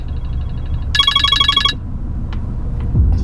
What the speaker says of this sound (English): that's an alarm clock.